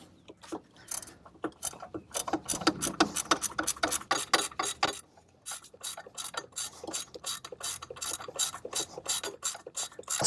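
A small ratchet loosens the bolts on a VW serpentine belt tensioner, giving rapid runs of close, sharp clicks in repeated bursts. A brief pause separates some of the strokes.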